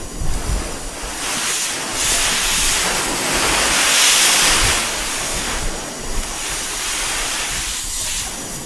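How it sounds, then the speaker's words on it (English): Steam hissing from unstable pressure in a video game, a loud continuous rushing hiss that swells and ebbs in waves over several seconds, with no speech. "Warning: unstable steam pressure detected."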